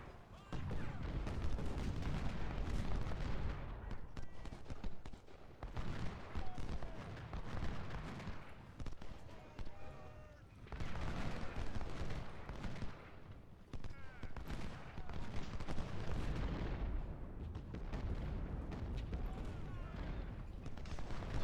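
Civil War battle at Harper's Ferry in a strategy game, dense musket gunfire crackling in volleys with occasional artillery booms, continuous and fairly distant, with voices speaking over it.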